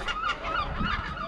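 Seagulls call repeatedly at an abandoned sea fort, a run of loud, close, harsh cries coming in quick overlapping bursts with no talk.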